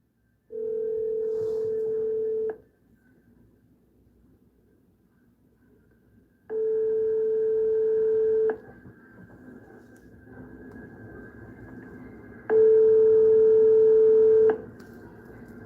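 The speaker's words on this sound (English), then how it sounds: "listen to where this phone number goes to when you call this childcare center" A phone call to a childcare center in Minneapolis rings on the line: three steady electronic ringing tones of about two seconds each, separated by quiet gaps over faint line hiss, with no voices.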